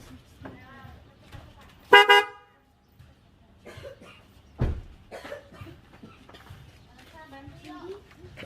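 A newly fitted snail horn on a 2019 Nissan Livina gives one loud, short honk nearby, followed by silence and then people talking and a cough.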